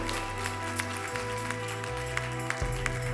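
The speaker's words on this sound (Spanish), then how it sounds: "Dale un aplauso al Señor" A church congregation applauding during a sermon, with light, scattered clapping over sustained keyboard chords that shift every second or so.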